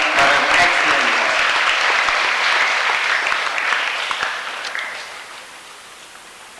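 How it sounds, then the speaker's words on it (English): At a school function in Aldona where sports kits are handed to students, the crowd bursts into loud, dense applause that runs several seconds, then thins and fades near the end. "A loud applause to Dr. Geeta for an excellent work."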